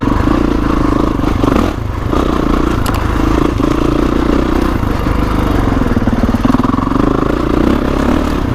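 A 2021 Kawasaki KX450X dirt bike ridden along off-road trails, its engine a steady, close, loud drone with slight rises and dips in pitch and no pauses.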